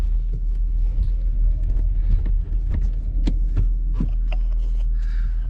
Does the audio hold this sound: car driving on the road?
yes